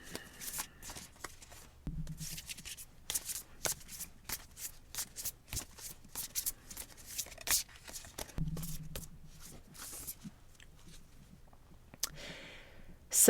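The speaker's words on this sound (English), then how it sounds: "So I'm going to shuffle these cards." A deck of playing cards being shuffled by hand in a quiet room: repeated crisp riffling and snapping bursts with brief pauses between them, close and fairly soft, with no talking.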